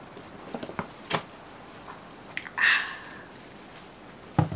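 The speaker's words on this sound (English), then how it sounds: "I'll have a sip of water." Someone sipping water from a bottle: a few faint clicks and taps, then a short gulping swallow midway, and a final knock near the end, all quiet and close.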